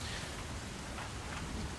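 Steady rain with gusting wind washes over the whole moment as a dense, even hiss, continuous and fairly close, with no voices.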